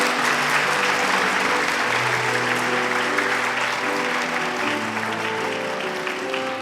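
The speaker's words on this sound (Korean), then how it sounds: "큰 박수를 보내드리도록 하겠습니다." A congregation claps warmly at a Korean church ceremony for retiring deaconesses, with sustained, even applause filling the hall. A low held tone sounds beneath the clapping, likely an organ or keyboard.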